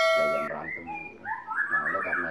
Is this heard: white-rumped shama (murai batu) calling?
yes